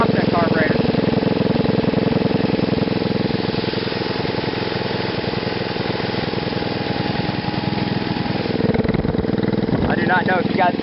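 Small Geet reactor engine fitted with an offset carburetor, running loud and close with a steady buzzing idle and surging revs throughout, a person talking over it.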